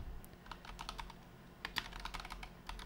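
Quick, quiet keystrokes on a computer keyboard enter a store name, coming as short irregular bursts of clicks.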